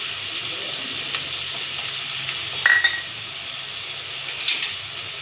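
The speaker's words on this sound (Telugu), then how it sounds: "ఆనియన్స్ వేగాల మంచిగా" Onions frying in hot oil in a pan for a home-style fish curry, a continuous close sizzle with a couple of brief crackling spurts, no talk.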